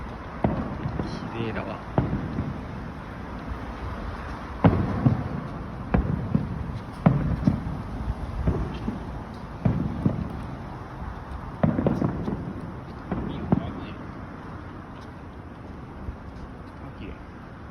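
A fireworks display sends out a steady series of sharp bursts and booming explosions for about eighteen seconds, some near and loud, others softer, while onlookers talk quietly in between.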